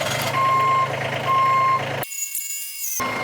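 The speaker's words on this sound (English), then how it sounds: "So I've gone and got myself a skid steer, and it's time now to work out if I can even remember to drive these things." A skid steer fitted with a 4-in-1 bucket sounds its reversing alarm, a series of loud, evenly spaced electronic beeps over a low engine rumble nearby.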